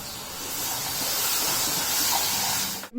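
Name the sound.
ground coriander, fenugreek and tomato paste sizzling in tempering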